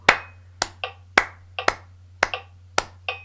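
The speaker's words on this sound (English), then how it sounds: "So I'm just going to, after 4, clap that" Sharp hand claps in a steady rhythm, a strong clap followed by a lighter double echo each beat, close and clear over a low steady hum.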